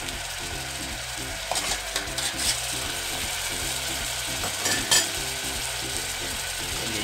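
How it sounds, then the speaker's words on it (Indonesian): Ingredients being stir-fried in a pan for a budget Hong Kong–style hot pot give a continuous close sizzle, with a few spatula scrapes and clacks against the pan around the middle and near the end. "Nah, saya tumis sebentar."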